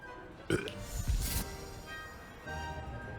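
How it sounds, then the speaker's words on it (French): A game character burps in Hogwarts Legacy, a short rough belch with a low rumbling tail, fairly close and clear over quiet background ambience. "C'est moi qui ai roté"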